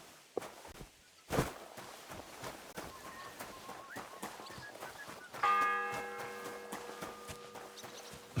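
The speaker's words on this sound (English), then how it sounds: "The fourth bell." A church bell tolls in Kingdom Come: Deliverance 2. The sustained metallic ring enters late, sounds moderately close and decays slowly over scattered footsteps and ambient noise.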